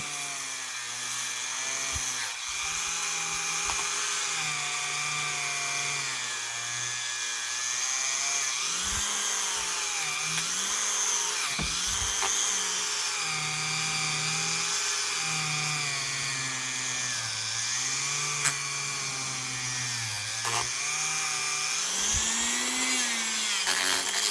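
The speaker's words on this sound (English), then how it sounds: "using my Dremel and a pad. Black is good. It means it's polishing it." A Dremel rotary tool with a polishing pad runs steadily and loudly throughout, its high motor whine holding on while the pitch dips and rises as the pad presses against parts of a Gebr Kuner cuckoo clock.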